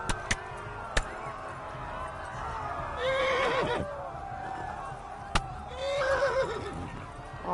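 Two horse whinnies from the video game Kingdom Come: Deliverance ring out, around three and six seconds, over faint background rumble with a few sharp knocks and thumps.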